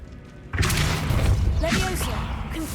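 Spell blasts from Confringo and Incendio go off in Hogwarts Legacy, a loud booming burst that sets in suddenly and keeps rumbling and crackling, with a voice calling out over it.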